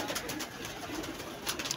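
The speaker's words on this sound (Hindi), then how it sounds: "ये भी कबूतर उड़ा रहे हैं" Pigeons kept for a pigeon-flying hobby coo softly and repeatedly against a hissy outdoor background, with the calls fairly close but not loud.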